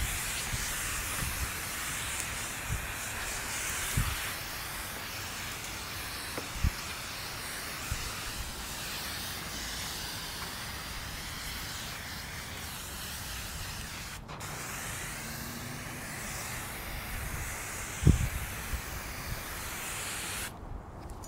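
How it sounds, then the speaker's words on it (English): Continuous close hiss of a sprayer misting Labocosmetica Preludio pre-wash onto a car, steady throughout with a few faint clicks and knocks. "look at that spray"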